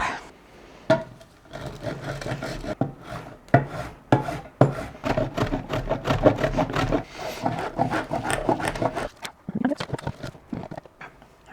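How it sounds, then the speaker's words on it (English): A bar of soap is grated by hand for homemade laundry detergent, a dense run of rasping scrapes in quick strokes, close and steady, with brief pauses between bursts. "First, I need to grate my bar of soap."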